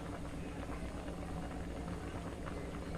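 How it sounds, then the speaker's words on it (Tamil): Red rice milk kozhukattai mixture boiling in a pot, a steady, dense bubbling simmer that fills the whole stretch at an even, moderate level with no pauses. "கொதி வருது"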